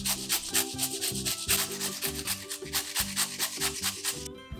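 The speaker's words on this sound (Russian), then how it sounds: "натираю огурец на терке прямо в сметану" A cucumber is rubbed against a kitchen grater straight into sour cream, giving a steady run of rhythmic rasping strokes, close and clear, with no talking.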